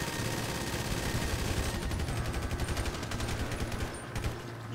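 Rapid gunfire in the video game GTA Online, a dense, continuous fusillade of shots rattling away steadily throughout, loud and close, with no talking over it.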